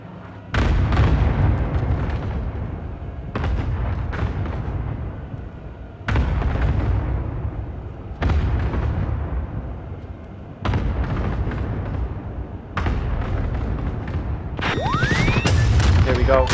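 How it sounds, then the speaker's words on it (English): Heavy bombardment explosions in the Call of Duty: Warzone battle royale game, a series of about six loud deep booms spaced a few seconds apart, each with a long rumbling decay, with a brief whistling streak near the end. "Brace yourself for major bomber activity. Head inside and seek shelter from the bombardment."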